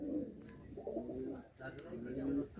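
Pigeons coo softly in a loft of fancy Madrasi and Punjabi breeds, a pair of low rolling calls repeating at close range with no other sound over them.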